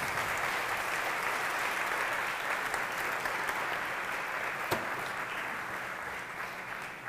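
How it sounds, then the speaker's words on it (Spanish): A steady wash of dense audience applause fills a talk event welcoming speaker Manuel Marlaska, holding at an even level for several seconds before easing slightly. "un fuerte aplauso para Manuel Marlaska"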